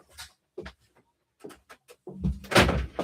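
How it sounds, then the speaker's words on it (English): Indoors, someone closes a door, giving a scattered series of knocks and thuds as it is handled and a louder, rumbling bump near the end. "I'm just going to close the door so that we don't hear any feedback"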